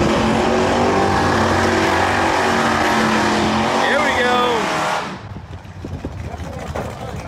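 A 2019 twin-turbo Mustang GT launches at a drag strip, a dense, loud engine roar sustained for about five seconds before cutting off abruptly, leaving quieter ambient noise behind.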